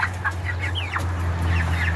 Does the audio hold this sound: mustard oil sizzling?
no